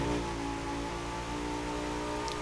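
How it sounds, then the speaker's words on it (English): Rain in The Crew 2 racing game forms a dense, steady hiss that stays constant throughout, layered over a continuous engine drone. "Suddenly it starts raining."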